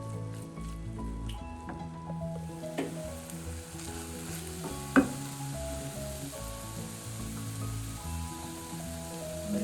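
Prawn thoran, Kerala-style chemeen thoran, fries in a pan with a steady sizzle, while a spoon stirs it with occasional soft scrapes and one sharper clack against the pan.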